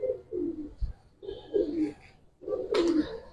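Giribaz pigeons in a loft give three distinct bouts of soft, rolling coos, close and alone, separated by brief pauses.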